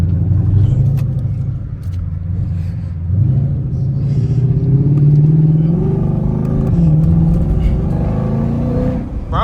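Shelby GT500 engine rumbling and revving loudly through a U-turn, a steady low growl that swells and climbs in pitch midway, then rises again near the end, heard close.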